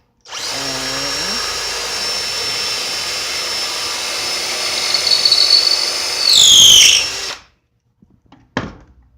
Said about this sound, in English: I'm going to use the drill.